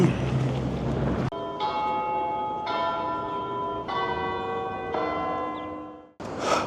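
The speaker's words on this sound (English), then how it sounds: "Well, the church bells rang, which means it is officially 5 o'clock" Church bells of a basilica in Montreal ring out in four or five evenly spaced, resonant strokes, each ringing on over the fading one before, heard loud and clear outdoors with no one talking.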